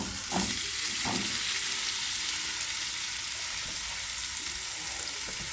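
Meat drops into hot olive oil in a pan, setting off a steady, close crackling sizzle after a couple of brief clatters at the start.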